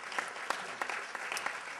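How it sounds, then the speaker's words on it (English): Brief, fairly faint audience applause at a business panel event, a steady wash of claps lasting under two seconds. "Let's give him a round of applause."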